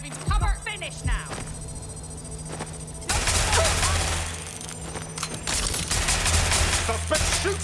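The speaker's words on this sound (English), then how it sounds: "Suspect shooting!" Gunfire from a shootout in the Watch Dogs video game: scattered sharp shots early, then dense rapid bursts of automatic fire crackling over a steady background hum, with a voice calling out amid the shooting.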